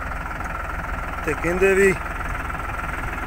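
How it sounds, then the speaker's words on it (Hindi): A tractor engine drones steadily and close in a watermelon field, with a constant low rumble and brief engine sounds rising over it midway while someone talks over the noise. "आ देखो इदां फिरदा फिर ट्रैक्टर।"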